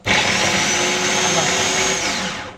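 A small electric kitchen grinder whirs steadily at high speed for a couple of seconds, loud and close, spinning up abruptly and easing off slightly at the end.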